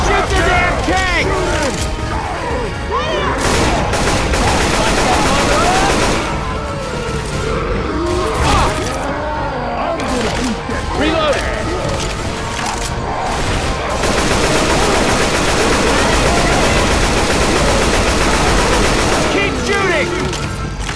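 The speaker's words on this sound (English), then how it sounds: "Shoot the damn tank!" Heavy gunfire aimed at the Tank in Left 4 Dead 2's Swamp Fever campaign on Xbox One: a sustained, loud barrage of overlapping shots and crashes running nearly unbroken, with players' voices shouting over the din.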